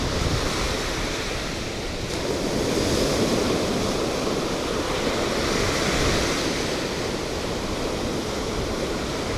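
Steady, loud ocean surf washes continuously at a Florida Gulf Coast beach, a broad roar of breaking waves mixed with wind buffeting the microphone, with no voices.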